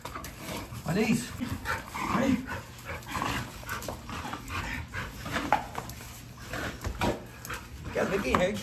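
A large Fila Brasileiro dog of about 60 kilograms pants and growls close by while biting and holding on, its breathing and strained noises running under excited human talk throughout.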